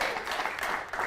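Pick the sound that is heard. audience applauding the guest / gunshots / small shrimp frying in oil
audience applauding the guest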